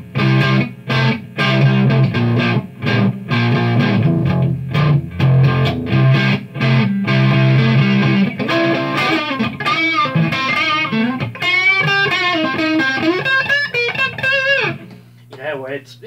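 An electric guitar plays through a cranked Marshall Vintage Modern 2466 amp, giving loud distorted chords in choppy, repeated strums that turn into sustained, bending lead notes before ringing out at the end.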